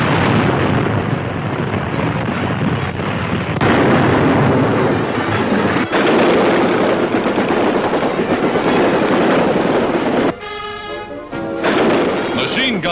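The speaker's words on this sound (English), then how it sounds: "Real dynamite explosions are set off to give them the experience of being under fire." Repeated explosions and heavy gunfire boom through a 1943 West Point army training exercise, loud and continuous, with dense rumbling bursts and a brief rattling break near the end.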